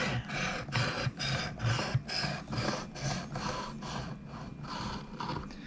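A knife is drawn across a Work Sharp sharpener in regular rasping strokes, about ten evenly spaced scrapes, close and clear with no talking.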